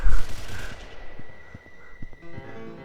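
A gun fired in the Paranormal Commute video game: a loud blast at the start, then a ringing decay broken by several sharper reports, close and punchy with no talking.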